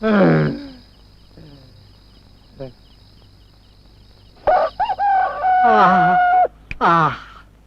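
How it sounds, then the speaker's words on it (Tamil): A rooster crows loudly nearby with a long, wavering cock-a-doodle-doo that rises and falls. Fowl clucks and calls come before it, and the crowing stands alone without talk. "சேவல் கூட 7 மணிக்கு தான் எழுந்துச்சு கூவுது"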